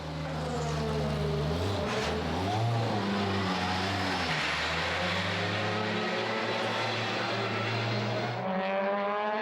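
A Formula One racing car engine at the Bologna Motor Show revs hard with a loud, high-pitched whine that rises and falls through gear changes, sustained close by and then dropping away at the end.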